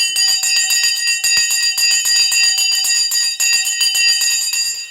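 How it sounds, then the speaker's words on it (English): A bell is rung continuously for several seconds at a live stock market stream, a loud bright rapid ringing that holds steady throughout with no talk over it. "We're about to ring the bell in 5, 4, 3, 2, 1."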